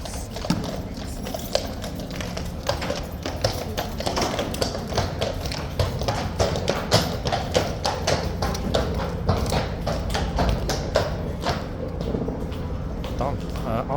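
Horse hooves clip-clop at Horse Guards in a steady, fairly dense run of taps that carries on through the whole stretch, heard at moderate distance over crowd murmur and voices.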